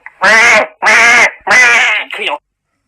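A duck quacks three times in loud, close bursts with short gaps between them, then gives a shorter, softer fourth call. No other sound is present.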